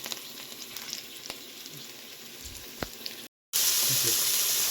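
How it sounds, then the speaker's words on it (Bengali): Potatoes frying in a pan give a soft, steady sizzle with a few sharp clicks, faint and continuous, ending in a louder burst of sizzling. "তাই আমরা একটু বেশিক্ষণ সময় ধরে ভেজে নেবো"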